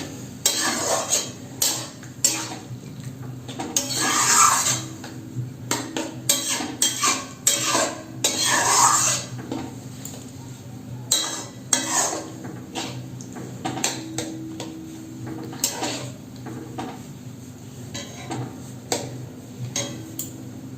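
A spoon stirs mixed dal with water in a cooking pot for a dhaba-style Punjabi dal tadka, making repeated metallic clinks, taps and scrapes against the pot over a low background hiss, with no talking.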